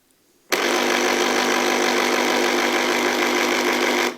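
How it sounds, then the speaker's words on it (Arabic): A Clatronic electric orange juicer switches on after a moment of quiet, its motor spinning the spindle with a loud, steady whirring drone that holds unchanged before cutting off abruptly at the end. "هاد المغزل دابا تيدور مزيان"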